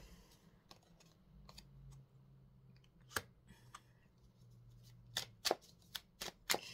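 Tarot cards being shuffled for a general reading, giving soft riffling, scattered crisp flicks and snaps over a quiet background, with no talk.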